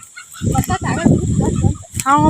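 A hen clucks close by in a rural home where she lays her eggs, giving a loud, rapid burst of choppy clucks with short pauses and a final rising call.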